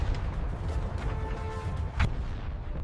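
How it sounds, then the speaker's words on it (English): Guns aboard the British cruiser Hogue fire during the 1914 North Sea battle, with a couple of heavy, distant booms rolling over a low, rumbling background. "The cruiser opened fire with her guns, joined by those of Cressy,"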